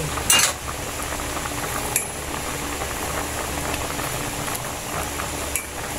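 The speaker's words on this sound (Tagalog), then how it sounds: "Ayan, ito po yung luto ko ng aking laswa." Laswa, an Ilonggo vegetable stew of long beans and squash flowers, simmering in a pot with a soft steady bubbling, a few sharp utensil clinks against the pot near the start and middle, no talk.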